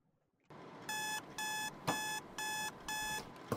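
A digital alarm clock beeps in five evenly spaced bursts of rapid high-pitched tones, loud and close, over a low background hum with no talking.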